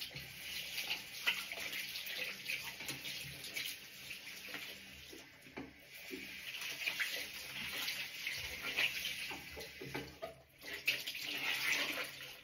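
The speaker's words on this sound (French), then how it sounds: "je vais rincer" Running tap water splashing as a face is rinsed during an evening skincare routine, a continuous soft hiss and patter with small uneven splashes, fairly quiet and close.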